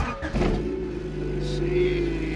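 A Honda CRX fitted with an S2000 push start button fires up and revs, giving a close, steady engine hum with a short rise in pitch, while voices are heard over it.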